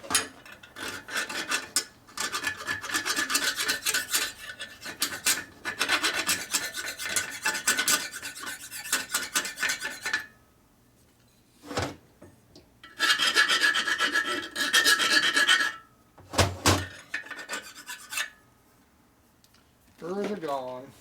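A file scrapes burrs off a part of a 1946 Harley-Davidson knucklehead motor being rebuilt, close, loud rasping strokes in long runs with pauses between them, and brief talk in the gaps.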